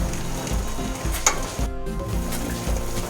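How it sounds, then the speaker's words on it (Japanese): Eggs boil in a pot of water while being stirred, giving a steady bubbling hiss with occasional scrapes and knocks of the utensil against the pot. "沸騰してから10分以上煮ます。"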